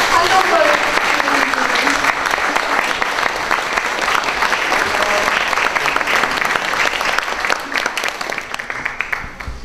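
A room of people gives encouraging applause for a party founding committee at a provincial chapter launch event, loud sustained clapping across the whole stretch that thins slightly toward the end, with some voices mixed into the crowd.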